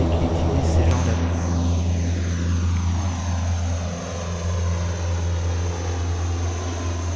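A propeller-driven military transport plane of the Luftwaffe drones in Flight Simulator X, a steady engine hum with a slowly falling sweeping tone, while someone talks over it.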